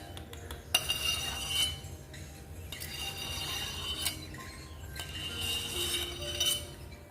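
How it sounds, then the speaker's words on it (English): Metal knife clinking and scraping over shards of broken glass, a close, crisp run of repeated chinks and rattles in several bursts over a faint low hum. "Gripping my knife over your broken glass."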